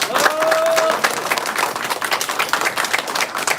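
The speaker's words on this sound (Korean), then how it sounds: "큰 박수 한번 부탁드리겠습니다." Loud, dense applause from an audience at a 2022 Dongdaemun district mayoral candidates' debate on disability policy, a steady wash of many clapping hands that thins slightly toward the end.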